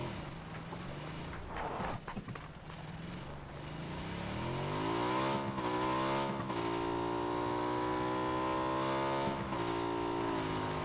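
Vehicle engine in PlayerUnknown's Battlegrounds, steady mid-pitched drone that climbs through gear-like pitch sweeps as it speeds up, close and continuous for the whole stretch with no talking.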